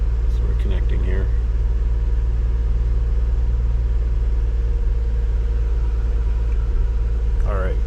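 A Nissan 300ZX engine idles with a steady low rumble, even and continuous throughout, while a person talks nearby over it.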